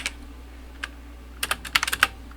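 Keys on a computer keyboard tap in a sparse pattern, a few isolated strokes followed by a quick cluster of clicks near the end, close and clear over a low steady hum.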